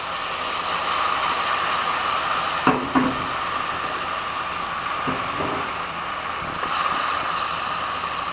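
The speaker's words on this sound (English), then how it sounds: "I just take the melon seed mixture and just carefully pour it in like this" Egusi melon seed mixture poured into a sizzling pot of Nigerian efo stew, a steady hissing fry with a few soft plops and splashes as it lands.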